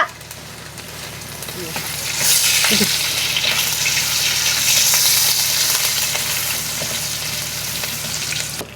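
Curry leaves hit hot oil in a village kitchen pan, setting off a loud burst of sizzling and crackling that swells after a moment and keeps spitting steadily.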